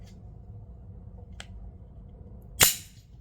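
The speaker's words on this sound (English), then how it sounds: "now I need to hit the slide stop" A single sharp metallic clack as the slide stop releases on a Smith and Wesson SD9 pistol, close and loud after a faint earlier click, in an otherwise quiet room.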